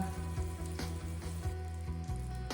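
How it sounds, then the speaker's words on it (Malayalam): Butter melting and sizzling in a pan before chicken pieces go in for frying, a soft, steady crackle with faint bubbling, quiet and close, with no voices. "ബട്ടർ ഇങ്ങനെ മെൽറ്റ് ആയി വരുന്നുണ്ട് കേട്ടോ"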